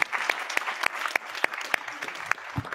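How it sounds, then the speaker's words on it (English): A panel audience applauds, steady clapping from a modest crowd with distinct sharp claps standing out, moderately loud and close, continuing through the clip without talk. "I think that deserves an applause"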